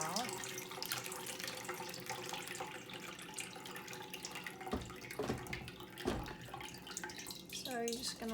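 Water running and trickling as it drains out of pulp held in a strainer, a steady splashing wash with a few louder sloshes as the pulp is moved around, close and continuous.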